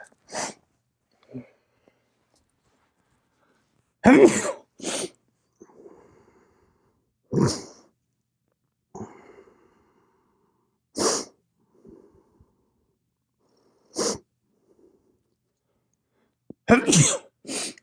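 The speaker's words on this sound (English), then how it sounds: "I'm still sneezing." Several sharp, loud sneezes burst out one after another at irregular intervals, separated by near silence and soft breaths.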